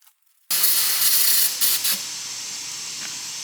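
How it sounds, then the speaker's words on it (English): California-compliant brake cleaner sprays in a loud, steady aerosol hiss that begins abruptly after a brief silence, with a couple of short pulses in the stream, then keeps going without any talk. "This new California compliant brake cleaner."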